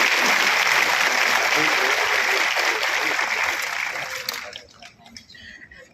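An audience at a Vishwamitri project inspection event claps loudly to welcome the Gujarat chief minister, a dense, sustained round of applause that tapers off and fades out after about four seconds.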